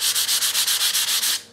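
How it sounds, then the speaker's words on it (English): Wood sanded by hand with 150 grit sandpaper to clear drill fuzz, ten quick rhythmic scratching strokes close to the microphone, evenly spaced and stopping abruptly. "so I just took 150 grit sandpaper"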